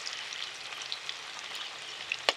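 Chopped onion frying in a pan for a Bengali home-cooked dish, a steady, soft crackling sizzle with tiny pops throughout and one sharper spatter near the end.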